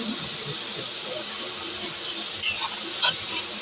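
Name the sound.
chicken meat frying in a pan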